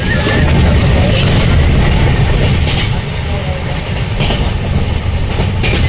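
A train rumbles steadily along the rails, loud and close, with a continuous rattling clatter throughout.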